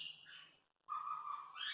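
A grey parrot whistles a rising, fluting koel-like call, two bright phrases separated by a short silence, close and fairly faint with no talk over it.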